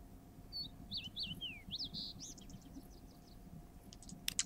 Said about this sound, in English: I heard birds.